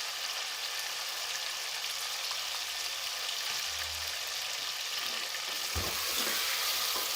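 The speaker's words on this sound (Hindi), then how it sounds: "अब इसको 5 मिनट तक फ्राई करेंगे गोश्त को।" Half a kilo of mutton fries in a pan with bay leaf and salt, a steady, even sizzle holding throughout, with one brief knock of a spoon or pan near the end.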